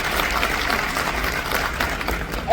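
Loud, brief burst of audience clapping at a mobile-industry business event in Raipur, a dense crowd of hands close by for a couple of seconds.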